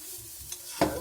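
Grated coconut roasts in a pan while being stirred, a quick scrape and soft sizzle rising near the end, close and quiet.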